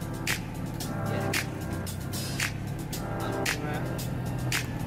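A 1968 Citroën 2CV is on the move, its steady engine drone and road rumble punctuated by regular sharp ticks or thumps about once per second.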